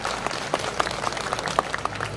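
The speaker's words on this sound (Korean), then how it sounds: "큰 박수 한 번 더 보내드리도록 하겠습니다" An outdoor crowd at a memorial gathering for disaster victims claps steadily, dense applause with distinct sharp claps popping out of the even, sustained sound.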